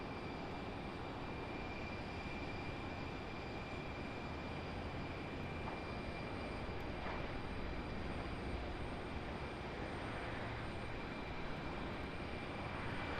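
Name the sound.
Southwest airplane at Raleigh Durham airport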